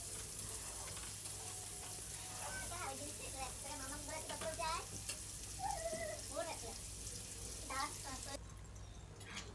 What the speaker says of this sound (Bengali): এখানে ডুমো ডুমো করে কেটে রাখা আলুটা দেওয়ার পরে আলুটাকে একটু ভেজে নেব